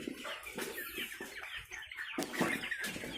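Layer hens on a poultry farm cluck and squawk repeatedly in overlapping calls, a busy flock fairly close, with a short lull midway and no talking.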